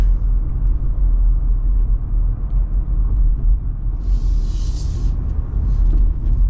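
A 2025 Jeep Gladiator Rubicon driving on a paved road, heard from inside the cab as a steady low rumble of road and engine noise at cruising speed, with a brief faint high whine midway and no talk.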